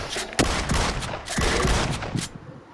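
Gunfire in PUBG: Battlegrounds, including a shotgun, rings out as a rapid series of loud, sharp shots and bursts close by over about three seconds.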